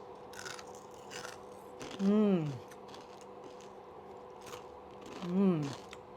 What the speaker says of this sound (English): Let's just give it a taste and taste the crunch.